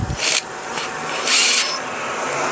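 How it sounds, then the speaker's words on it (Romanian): An electric screwdriver drives and tightens screws on a Stihl 210 chainsaw, with two short whirring bursts separated by quieter handling noise. "Nu strângem prea tare cu mașina de înșurubat"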